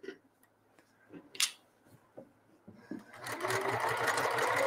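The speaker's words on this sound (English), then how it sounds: "You're simply sewing right next to the piping." A sewing machine stitching fabric right alongside the piping of a pillow: a few light clicks and taps at first, then a steady, fast whirring run of stitching, close and fairly loud.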